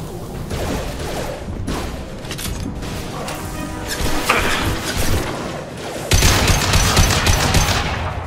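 Rapid gunfire bursts and mechanical weapon clatter from the video game Mass Effect, loud and near, with bursts of shots separated by brief lulls and a heavier barrage near the end.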